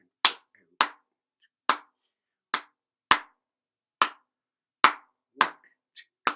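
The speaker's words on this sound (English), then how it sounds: "then I'll clap New Orleans clave with my hands" Hands clap a New Orleans clave rhythm, ten sharp dry claps in an uneven syncopated pattern, close and alone against silence.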